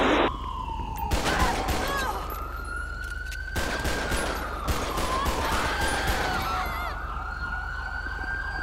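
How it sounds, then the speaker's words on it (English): Rapid gunfire in the video game GTA 5 during a modded state trooper patrol, crackling bursts under a loud wailing police siren that sweeps up and down throughout. "There's a lady shooting at me."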